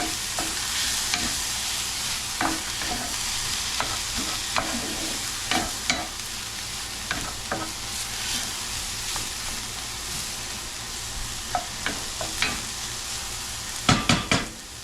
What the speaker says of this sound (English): turn that heat down just a little bit where it's sauteing